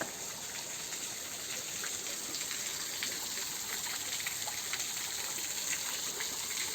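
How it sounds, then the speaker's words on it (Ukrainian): A small waterfall fountain in a pine-forest park gushes and splashes steadily and close by, with no voices over it. "Ось який водоспадик"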